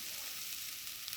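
Mustard seeds fry in hot oil with a faint, steady hiss and fine crackle, continuous and close.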